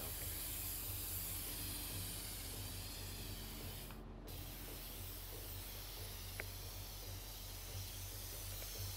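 A spray can hisses steadily in the video game Infamous Second Son, a broad continuous noise lasting about nine seconds with one short break near the middle, over a low background hum.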